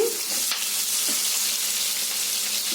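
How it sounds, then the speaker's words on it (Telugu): Onion pieces frying lightly in a kadai for a dhaba-style paneer masala curry, giving a steady close hiss of sizzling oil with faint stirring scrapes, alone and without talk. "ఇప్పుడు అదే బాండీలో మనము ముందుగా కట్ చేసి పెట్టుకున్న ఉల్లిపాయ ముక్కల్ని కూడా లైట్గా ఫ్రై చేసుకోవాలి."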